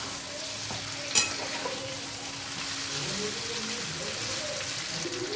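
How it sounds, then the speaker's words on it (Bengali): Chicken sizzles gently in a pan as it is stirred, with a soft continuous frying hiss, a brief sharp clink early on and scraping movement underneath. "চিকেনটা আবারও ভালোভাবে একটু নেড়ে নিচ্ছি।"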